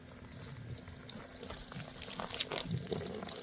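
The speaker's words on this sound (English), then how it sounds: "pour water on it" Water poured onto an oilskin hat splashes and trickles off the waxed fabric, a quiet, close, irregular pattering that builds slightly toward the end.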